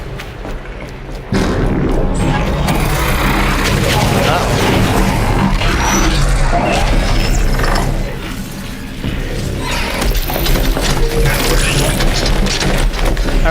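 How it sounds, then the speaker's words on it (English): Mechanical grinding and ratcheting of the high-level Corruptor machine in the video game Horizon Zero Dawn, a loud, dense and continuous clatter with deep rumbling booms underneath, mixed with game sounds and occasional voices. "this is a new machine, the Corruptor"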